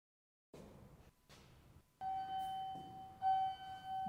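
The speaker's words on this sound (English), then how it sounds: "That's the elevator ding I was looking for." An elevator ding sound effect: a clear, sustained bell-like tone that rings out and swells once more, preceded by a few brief soft clicks and rustles.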